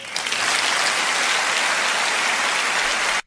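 A conference hall audience at the Conservative Party gathering breaks into sustained, dense applause, a steady rain-like wash of many hands clapping for about three seconds before stopping sharply.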